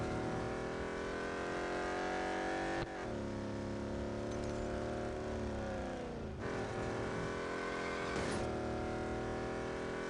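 A race car in the Real Racing 3 video game roars at full throttle, its engine note climbing and dropping with two clear gear shifts; the sound is loud and continuous, with no talking.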